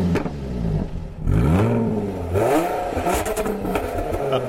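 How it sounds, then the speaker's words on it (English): A supercharged 3-liter V6 in a 2014 Jaguar F-Type S revs hard and loud, its pitch sweeping up and falling back twice, with a throaty, rising growl close by and no talk over it. "a supercharged 3-liter V6 that makes 380 horsepower"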